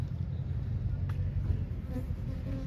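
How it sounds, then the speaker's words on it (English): A honeybee buzzes in a historic small-town downtown on the Florida Gulf Coast, a low steady drone running the whole stretch over outdoor background noise, fairly close but not loud. "Ooh, honeybee."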